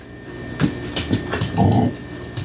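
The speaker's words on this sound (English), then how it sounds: "That little dog is shaking the floor." A small dog jumps and plays on a floor, giving several close, irregular thumps and scuffles with a short rough burst near the end, with no talk.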